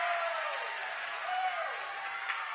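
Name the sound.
home crowd cheering a traveling call at basketball game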